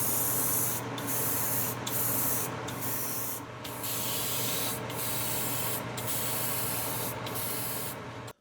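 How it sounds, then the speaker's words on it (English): An aerosol can of polyacrylic coating hisses in steady bursts over fishing lures, with a series of short pauses between sprays, close and fairly loud. "spray this one and the pearlescent one with the polyacrylic"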